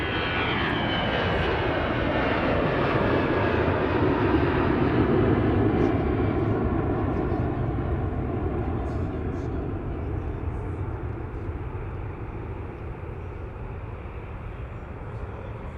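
An airplane taxis at MSP airport in the Twin Cities, its engine a loud, steady roar close by that gradually fades as the aircraft moves away.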